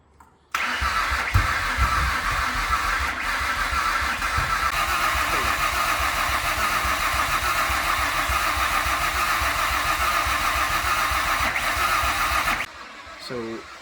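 A freshly rebuilt Ford Mondeo ST200 engine cranks and catches, then holds a steady, loud idle close up for about twelve seconds before cutting off abruptly.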